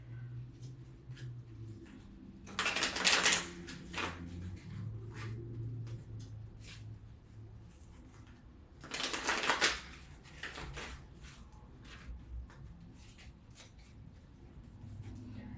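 Kali tarot cards being shuffled in two distinct bursts of riffling, close and moderately loud, separated by quieter handling rustles, with no talking.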